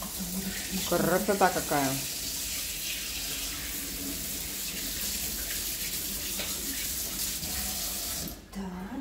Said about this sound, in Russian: дай я руки смою